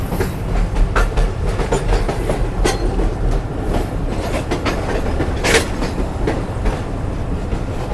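The Shalimar Express pulling into Samasatta Junction railway station, with loud steady clickety-clack of wheels over rail joints and rumbling carriages throughout, plus occasional squeals and sharp clanks.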